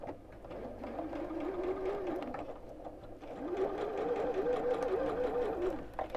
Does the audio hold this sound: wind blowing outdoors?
no